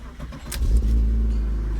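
A BMW E36 with no catalytic converters rumbles low and loud as it pulls away, the engine note building into a steady close drone without any talking.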